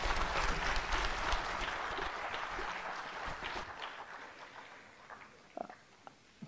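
Audience clapping at an Independence Day celebration fills the opening seconds, loud and dense, then thins out and fades to a few scattered claps by the end.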